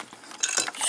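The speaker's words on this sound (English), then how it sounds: "let's go ahead and clamp this up in the vise and open it up" Clamping a Sargent 5-pin lock cylinder in a vise produces a quick series of close metallic ratcheting clicks and scrapes, short and crisp, with no voices.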